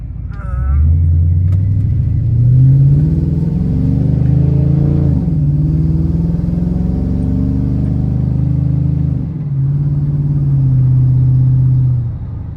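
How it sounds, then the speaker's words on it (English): A project car called Constance drives on a test run with a newly fitted exhaust, giving a deep, steady engine drone that rises and dips through gear changes, loud and close, with no talk over it. "This exhaust sounds good. Not loud and obnoxious, but it's got a real deep tone."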